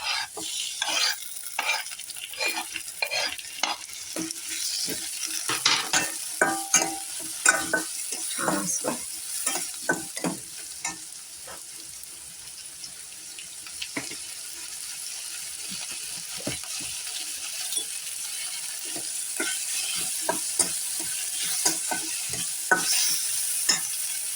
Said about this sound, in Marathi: आता कांद्याला जरासं परतून घेऊया।